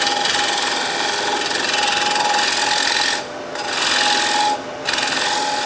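Woodturning gouge cutting into a wooden plate spinning on a lathe, a steady close rasping shear with two brief pauses as the tool lifts off, motor hum underneath.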